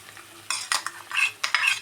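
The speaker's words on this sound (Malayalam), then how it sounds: "നന്നായി മിക്സാക്കി കൊടുക്കുക." Egg roast masala being stirred in a pan, a spoon scraping and clinking through the thick mixture in a few quick bursts, close and fairly soft, with a faint hum underneath.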